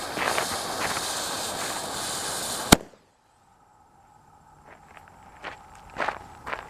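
A model artillery cannon loaded with coarse black powder fires with one sharp crack, followed by quiet and a few faint scattered knocks and rustles nearby.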